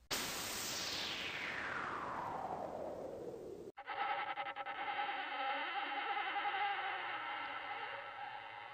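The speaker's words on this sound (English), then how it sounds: "make the other one the sound of the swish of air, and I'm calling it swish and door opening" Whoosh of air sweeping downward for several seconds, cut off abruptly by a sustained mechanical door-opening effect with a steady hum and rattling texture, both loud and with no talking.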